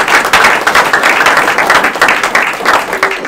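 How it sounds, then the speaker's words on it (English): Students at a career and technical education letter of intent signing day give a loud, close round of applause, dense clapping continuing steadily without talk. "Give yourselves one big round of applause."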